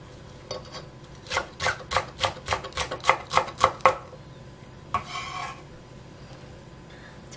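A knife chops green onion on a cutting board in a quick run of about ten crisp, evenly spaced strokes, close and clear, followed by a brief scraping sound and then quiet.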